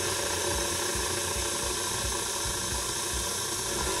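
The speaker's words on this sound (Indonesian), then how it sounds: "Kita kocok aja kecepatan rendah sambil tambahin kuning telurnya." An electric mixer runs at low speed, beating gingerbread cupcake batter as egg yolks are added, giving a steady, even whirring hum with a faint rhythmic churn, close and continuous, with no talk.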